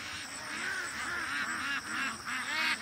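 A group of ducks quacks in overlapping, continuous chatter at moderate distance, fairly soft and steady throughout.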